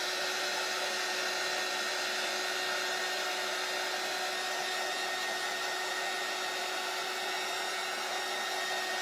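A hair dryer runs steadily and loudly throughout, a continuous even whoosh with a faint motor whine, drying items at a Christmas tree stand workshop.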